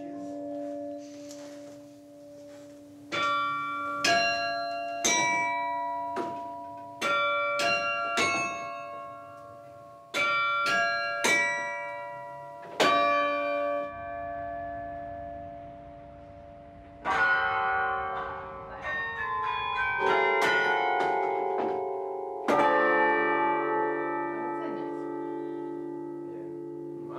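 Carillon bells in Douai ring out a slow melody of clear, resonant strikes, each note lingering and overlapping the next, loud and unaccompanied by voices.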